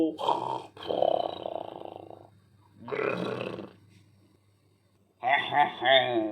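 A voice imitates drawn-out, exaggerated snoring for a comic character in a Hindi comedy audio story: three rough, growling bursts separated by pauses, loud and close.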